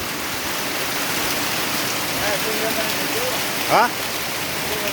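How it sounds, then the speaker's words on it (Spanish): Rain falls steadily during a storm in San José Cureñas, Totolapa, Morazán, a constant hiss of rain on surfaces, with a brief voice breaking in near the end. "está lloviendo"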